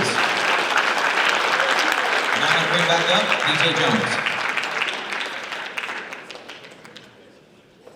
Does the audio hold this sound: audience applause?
yes